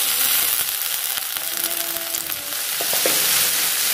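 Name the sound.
greens added to hot tempering, sizzling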